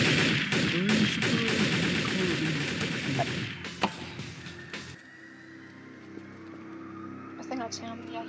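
Rapid bursts of gunfire in Garry's Mod, a dense volley of shots for the first five seconds with a few sharper isolated cracks, then quieter game ambience, all under overlapping voices.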